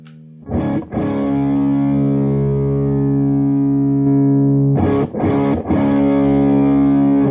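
Electric guitar through an overdrive pedal, adding upper-mid bite: chords struck and left ringing, a long sustained chord between two short bursts of strumming, loud and close.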